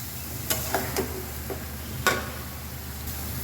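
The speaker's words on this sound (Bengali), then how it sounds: "এখন ভালো করে কষিয়ে নেব যে ভালো করে নাড়াচাড়া দিয়েছি" Dried fish cooking with mixed vegetables in a pan, stirred with a series of separate, fairly close scraping clinks over a steady low sizzle.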